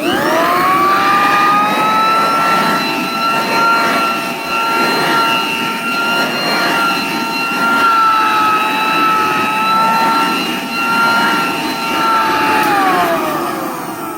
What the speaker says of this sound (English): So we're going to start with this Hamilton Beach hand vac.